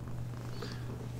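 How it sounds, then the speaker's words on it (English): A cat held close purrs with a soft, low, continuous rumble, faint and steady. "You might be able to hear him purring,"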